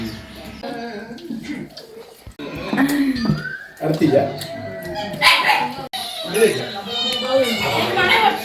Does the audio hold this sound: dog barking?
yes